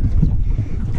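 Cold, gusty wind on a lake while fishing from a boat, a steady low rumble of buffeting air close to the microphone with no voices.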